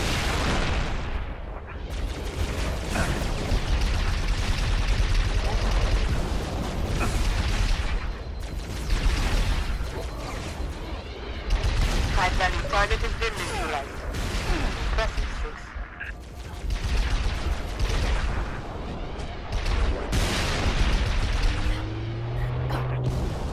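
Explosions in the Halo Reach video game: heavy booms and blasts repeat through the whole stretch, loud and close, with rapid burst-like pops between them.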